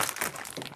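Crinkly plastic packaging is torn open while tomato ramen is cooked outdoors, a short close burst of crackling rustle.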